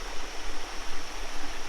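Water of a sinking creek welling back up out of the ground and running off downstream, a steady rushing flow heard up close with no voices, on a backpacking route near Copperas Falls.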